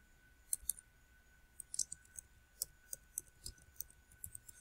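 Keys on a computer keyboard, including the Enter key, are pressed in a string of quick, crisp, close clicks at an uneven pace, quiet and alone.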